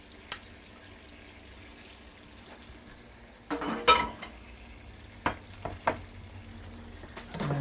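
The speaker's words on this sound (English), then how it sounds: "And stir this sauce in, the mascarpone, to get that blended in." Mascarpone being stirred into a sauce, with a low background sizzle and scattered spoon scrapes and clinks against the pan, growing louder and busier toward the end.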